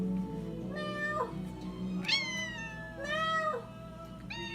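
Tinkerbell, a house cat, meows again and again, four drawn-out, rising and falling calls spread evenly over a few seconds, close and clear against a low background hum.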